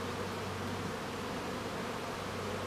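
Honey bees flying around the entrance of a hive in an apiary, a close, steady, dense buzzing hum with no break, heard alone.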